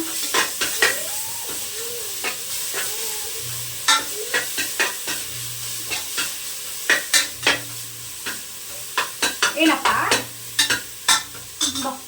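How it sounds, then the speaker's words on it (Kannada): Ginger garlic paste frying in a pan, a steady soft sizzle under repeated close scrapes and taps of a spoon stirring against the metal, with no talking. "ಇಲ್ಲಿ ಒಂದು ಸ್ಪೂನು ಶುಂಠಿ ಬೆಳ್ಳುಳ್ಳಿ ಪೇಸ್ಟ್ ತೊಗೊಂಡಿದ್ದೀನಿ ನಾನು ಚೆನ್ನಾಗಿ ಇದನ್ನ ಫ್ರೈ ಮಾಡ್ಕೊಂಡು ಹಸಿ ಸ್ಮೆಲ್ಲೆಲ್ಲ ಹೋಗ್ಬೇಕು"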